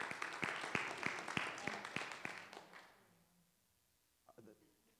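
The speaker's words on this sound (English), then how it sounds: "You can clap, it's okay." An audience at a panel discussion claps to welcome a rabbi panelist, a few seconds of moderate applause with distinct hand claps that dies away into quiet, followed by a brief murmur of voices.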